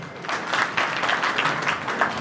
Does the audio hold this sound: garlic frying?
no